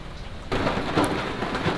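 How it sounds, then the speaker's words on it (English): Steady rain with rumbling thunder outside an RV at Van Buren State Park, quiet at first, then a loud wash of rain and thunder from about half a second on, with no talking. "Well, since it's raining outside"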